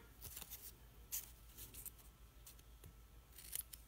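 Sharp snips cut a paper snowflake ornament with quick, faint snipping clicks spread irregularly across a quiet, close background.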